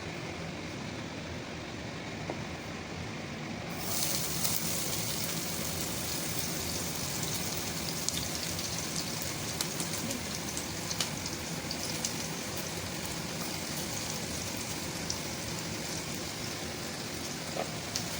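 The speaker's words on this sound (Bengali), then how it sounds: "এবারে তেলের মধ্যে ঢেলে দিচ্ছি রসুন কুচি, আদা কুচি, লঙ্কা কুচি আর পেঁয়াজের কুচি আছে" Chopped garlic, ginger, chili and onion frying in hot oil make a steady, dense sizzle with a sharper hiss joining partway, continuous and close throughout.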